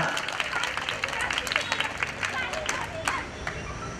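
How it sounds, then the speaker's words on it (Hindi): Steady applause from an audience at a certificate and award event for coaching classes, a continuous patter of many hands with crowd murmur and voices mixed underneath. "एक बार जोरदार तालियां।"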